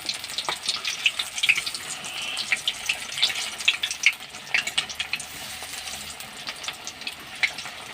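Gourd-leaf begni fritters fry in hot oil, giving a soft, steady bubbling sizzle with scattered sharp crackles and pops throughout.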